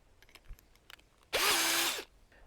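Power drill boring a hole for a fence, working on the ground, one loud, close burst of whining motor lasting about half a second to a second, after faint handling clicks.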